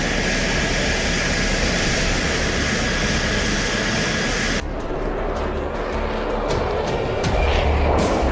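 Loud, steady jet engine roar from an F-22 Raptor in an action film, a continuous broadband rush that abruptly drops halfway to a thinner rumble with scattered clicks and thumps.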